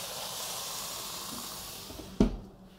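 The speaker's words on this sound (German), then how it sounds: "Bisschen Wasser aufgießen, damit Dampf entsteht." Water poured into a hot oven set to 190 degrees while baking an Italian colomba Easter bread with spelt flour, giving a steady rushing hiss of steam that fades, then a sharp thump near the end.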